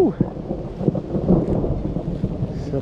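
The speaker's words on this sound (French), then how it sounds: "Ça pleut, ça pleut, ça pleut" Steady rain patters over a rumbling, noisy background, with faint thunder-like swells and no voices.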